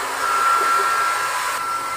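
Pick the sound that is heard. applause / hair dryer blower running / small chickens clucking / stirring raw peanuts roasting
hair dryer blower running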